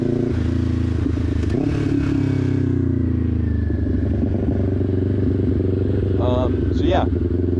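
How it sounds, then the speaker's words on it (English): Motorcycle engine idling and revving in low rumbling pulses during slow clutch-control practice, with clattering mechanical noise and a brief high whine near the end, loud and steady throughout. "Just getting on the bike and riding, man, it doesn't even have to be for that long for me."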